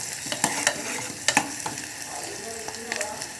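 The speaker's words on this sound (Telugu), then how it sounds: "చూడండి ఇవి వేగుతుంటాయి." Onion and bottle gourd pieces fry in a pan for curry, a continuous sizzle broken by a few sharp stirring clacks and scrapes of a spoon against the pan.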